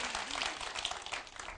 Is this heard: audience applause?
yes